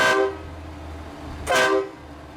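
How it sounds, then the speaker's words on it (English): A train horn fitted to a very large pickup truck blares in two loud blasts, a long one followed by a short one after a pause, with a steady low engine hum underneath. "And what that does is it turns on the train horn."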